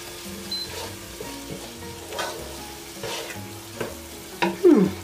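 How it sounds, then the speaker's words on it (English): Plantain veggies with crushed pepper sizzle gently in a pan while a utensil stirs and scrapes in short bursts, ending with a louder clatter close by. "And of course my crushed pepper. So I'm gonna give that a stir."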